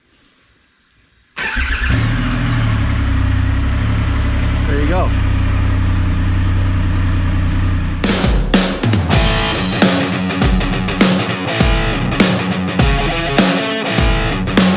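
A 2020 Triumph Rocket 3 GT motorcycle with 6,329 miles starts up and idles with a loud, steady rumble close by. Someone speaks over it, and later music plays on top.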